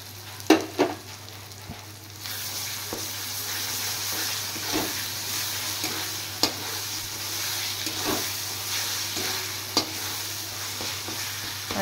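Garlic and ginger paste sizzles in a hot pan for a Bengali fish dish, a steady frying hiss broken by several sharp stirring scrapes and clinks up close.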